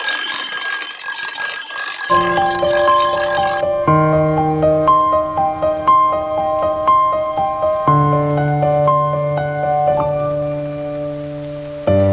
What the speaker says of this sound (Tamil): அலாரம் அடிக்குது பாரு எழுந்துரு